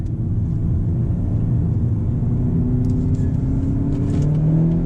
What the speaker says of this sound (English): Whoa, this car is fast.